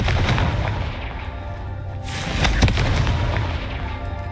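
A Confringo fire spell explodes in the Hogwarts Legacy video game, a loud booming blast over a dense, rumbling combat soundscape, with a sharp peak partway through.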